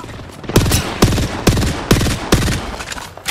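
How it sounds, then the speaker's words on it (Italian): Gunfire in Apex Legends, five loud sharp shots spaced about half a second apart, each with a short ringing tail, close and dominant. "stanno sparando"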